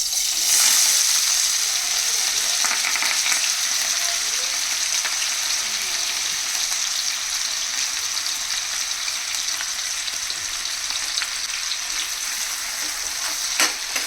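Onions sizzle in hot oil in a pan while an egg and drumstick curry is being made. A bright, steady frying hiss runs the whole time with faint stirring scrapes and no pauses.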